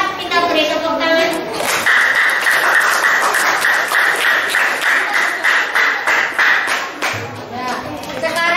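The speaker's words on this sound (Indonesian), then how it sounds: "Terima kasih untuk kelompok 4. Kita beri tepuk tangan." Students in a classroom clap for a group that has just finished presenting, brisk close applause that starts after a short spoken line and carries on for several seconds before tapering off.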